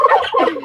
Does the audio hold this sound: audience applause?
no